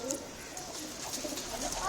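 A pigeon coos softly nearby while people talk over it in a short, hushed moment.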